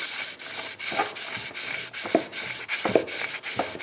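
Sandpaper of 320 grit rubs back and forth over an engine crankshaft in a steady, rapid rhythm of about ten even rasping strokes, close and fairly loud.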